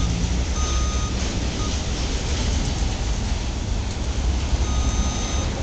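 A CSX freight train rolls slowly westbound nearby, giving a steady, loud rumble of wheels and cars with faint high squeals over the top, continuous throughout with no talking.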